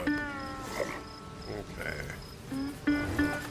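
Bees buzz in the Mystery Case Files: 13th Skull video game, a steady droning hum rising and falling under a speaking voice and faint background tones.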